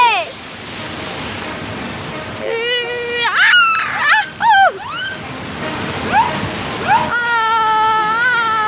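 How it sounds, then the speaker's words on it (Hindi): Big ocean waves surge around a boat in a cartoon, a loud rushing wash that churns steadily, while voices talk over it. "ये लहरें हमारी बोट पलट भी सकती है"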